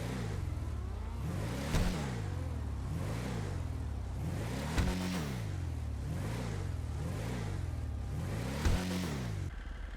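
Patriot Mil-Spec engine in GTA Online idling with a deep, steady rumble, repeated swelling revs rising and falling in a regular pattern, close and loud with no talk.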